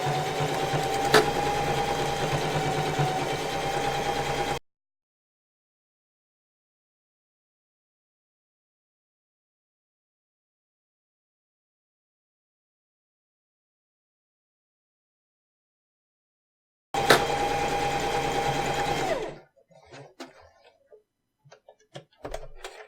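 A sewing machine stitching backpack fabric in two steady, rapid runs of a few seconds each, separated by a long silence, with faint handling clicks at the end.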